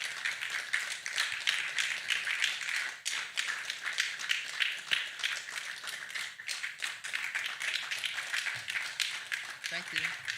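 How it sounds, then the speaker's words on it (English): Audience applause rings out steadily at a youth entrepreneurship policy dialogue as a Lagos State commissioner climbs the stage, dense continuous clapping filling the hall with a few brief voices underneath. "Please let us continue applauding him as he climbs the stage."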